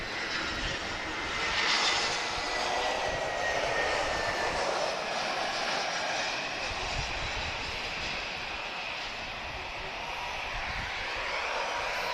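A TAP airliner departs Lisbon Airport, its engines a loud, steady broadband roar that holds throughout with a faint high whine, no talking heard.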